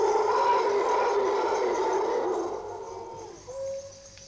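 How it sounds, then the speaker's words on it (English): A male mantled howler monkey gives a long, rough, roaring howl that swells and then fades. Near the end, a thinner tonal call briefly follows. "It's the male mental howler monkey, probably the loudest noise made by any monkey."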